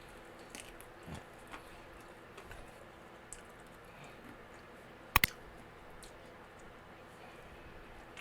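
Someone bites and chews keto fried chicken wings up close, making faint crunching and squishy mouth sounds with small clicks and one sharp crackle partway through.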